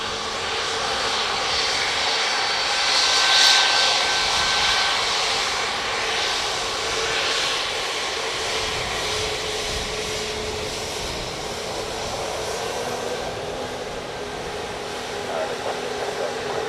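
A Ryanair jet arriving from Valencia at Dublin Airport roars steadily throughout as a broad, continuous engine noise at moderate distance, swelling slightly early on and holding even to the end.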